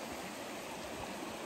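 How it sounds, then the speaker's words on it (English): Water flowing through a beaver dam in Algonquin, a soft, steady broadband rush like a small stream, even and unbroken throughout. "So normally the water would just flow, and now it has to flow through here."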